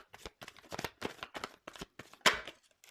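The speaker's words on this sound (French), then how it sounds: "Enfin, je tire pas, je fais sauter les cartes." Tarot cards are shuffled by hand in a string of quick, crisp riffling bursts, each followed by a short pause, close and fairly quiet, ending with one louder flutter as cards jump out of the deck.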